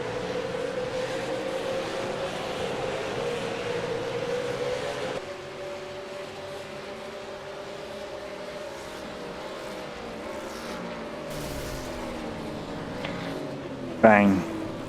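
V8 Supercars race cars at Monza in an online sim race: engines drone and whine steadily, pitch sweeping as they pass, under a commentator's voice, with a sharp loud bang near the end.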